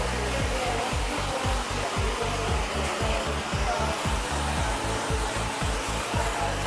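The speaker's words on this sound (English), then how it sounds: "Full heat, full speed, come right in and just dry really quickly into the roots." A hair dryer at full heat and full speed blows into the roots of curly hair, a loud, close, steady whooshing hum with rapid rhythmic flutter as the airflow is worked through the hair.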